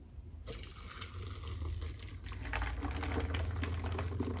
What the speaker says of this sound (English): so what I do is I pour it in